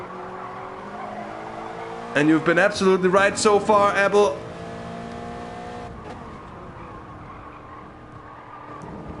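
Toyota GT86 cup cars race at Interlagos in GT Sport, engines droning and a car revving through the gears under a commentator's voice, then fading to a steadier background hum.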